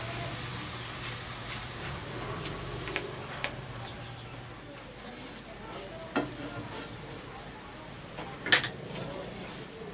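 Coconut cream and dark brown sugar being stirred in a pan for biko, a soft steady scraping and faint sizzle with occasional light clinks of the utensil against the pan.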